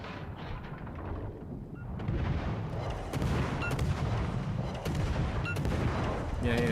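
Naval gunfire in the console warship battle game World of Warships: Legends, with repeated booming salvos and dense rumbling explosions over a steady low battle roar, loud and continuous for the whole stretch.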